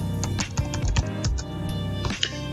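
Quick bursts of keystrokes on a computer keyboard, close and crisp, with short pauses between runs of clicking and no talking.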